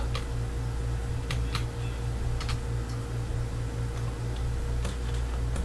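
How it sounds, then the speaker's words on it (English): A computer mouse clicks loudly and repeatedly at uneven intervals, each sharp tick close and distinct above a constant low electrical hum. "that the clicking of the mouse is awful loud."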